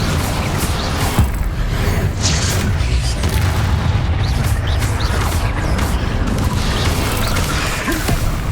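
Spell explosions from Hogwarts Legacy combat, a dense continuous barrage of booms, crashes and bursts layered over one another, loud and close throughout with no pause.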